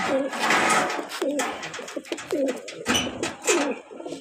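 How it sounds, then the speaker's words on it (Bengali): Racing pigeons coo repeatedly in soft, throaty rolling calls, several in a row, close up, with some rustling and shuffling noise around them. "তো এইখানে আরো কবুতর আছে।"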